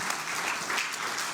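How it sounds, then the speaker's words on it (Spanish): Brief burst of applause from a church congregation, a dense steady clatter of many hands, moderately faint and alone without talk. "Dele un aplauso al Señor."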